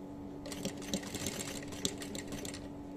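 A sewing machine stitches fabric close by with a fast, even mechanical whirr and patter over a steady hum, running continuously at moderate volume.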